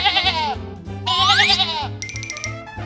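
Two drawn-out, wavering bleats from a nearby animal, followed by a bright tinkling jingle over a steady low rhythmic thump.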